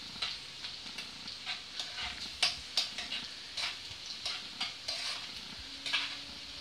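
A spoon scrapes and stirs apple pickle (achar) with spice powders in a frying pan, repeated sharp strokes at an uneven rhythm over a soft, quiet sizzle.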